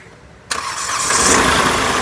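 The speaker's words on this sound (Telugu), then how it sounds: "ఒకసారి ఇంజన్ స్టార్ట్ చేసి చూపిస్తాను స్టార్ట్ చేయి" After a quiet moment, a 2016 Hyundai i10 Magna engine cranks and catches abruptly on a single start, then settles into a loud, close, steady idle that builds slightly.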